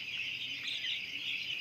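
Chickens at a poultry farm holding about 4,100 birds squawk in a steady, dense chorus, a continuous high-pitched din with no pauses.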